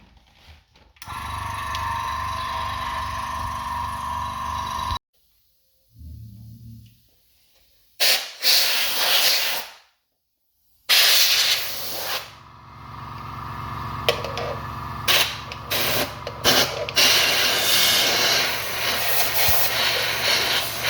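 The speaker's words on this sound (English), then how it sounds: "let's try blowing it out with some dry compressed air." Dry compressed air blasting into a Volkswagen car radio in a series of loud, close hissing bursts, some long and steady, others short spurts, separated by brief silences.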